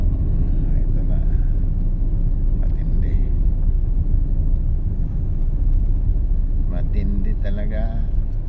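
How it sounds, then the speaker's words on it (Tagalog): Heavy road traffic on Loton Avenue, a loud, steady low rumble of many engines close by, with a few brief horn-like tones and talking over it. "puno dito sa Loton Avenue guys, traffic"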